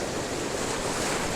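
Strong sea waves roll onto the shore in a continuous loud roar of surf, with wind buffeting the microphone throughout.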